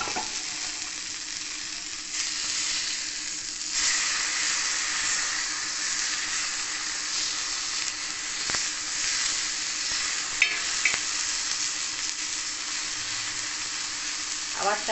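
Rui fish paturi wrapped in pui (Malabar spinach) leaves fries in a covered pan, giving a continuous, fairly close sizzle that stays even throughout, broken by a few faint clinks.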